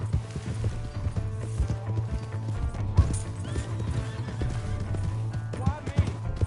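Horse hooves clip-clopping at speed in Red Dead Redemption 2, with a whinny, over a steady low game rumble and mechanical clatter, while voices speak over it.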